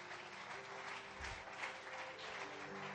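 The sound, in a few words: audience applauding and cheering for the King of kings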